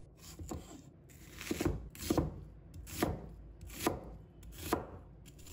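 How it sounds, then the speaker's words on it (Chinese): A knife chops an onion into small pieces on a cutting board, five or six distinct thuds in a steady, unhurried rhythm, close and clear with no talking. "另一半切小块。"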